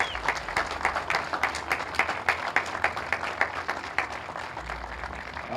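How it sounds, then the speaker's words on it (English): Audience applause at a ribbon cutting ceremony for a city athletic center in Lowell, a steady wash of many hands clapping that holds evenly throughout, fairly close and full. "Can we give them a round of applause?"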